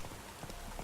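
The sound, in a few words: horse hooves in rain, The Witcher 3 video game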